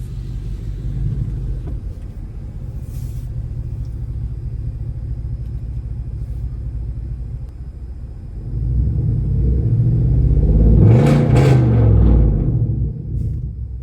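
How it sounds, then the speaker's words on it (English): A Chevrolet LTZ with a loud aftermarket exhaust rumbles steadily near the listener, then revs hard in a short burst that rises and falls before settling back into its deep idle. "I'm not a big fan of doing revs just because it's not good on your motor"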